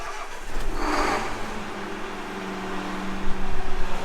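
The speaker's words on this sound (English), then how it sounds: "It's gonna crank for a little bit here since we changed the fuel filter." A Case IH farm engine cranking steadily after a fuel filter change, a continuous near mechanical churning drone with no catch, rising slightly toward the end.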